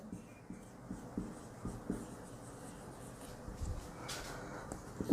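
Chalk or marker scratching across a board during a chemistry lecture on types of solutions, with quiet irregular strokes and taps in a soft room tone and no voice.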